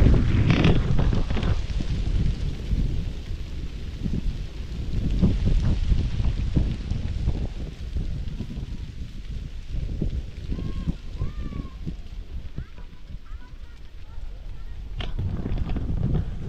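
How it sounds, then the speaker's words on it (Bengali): Strong wind gusts off the Gaureshwar River in a Sundarbans village rumble and buffet the microphone continuously, with faint bird chirps briefly audible in the middle. "নদীর হাওয়া এসে এখানে লাগছে"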